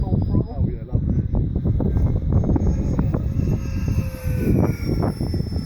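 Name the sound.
Scorpion model aircraft engine at full throttle in wind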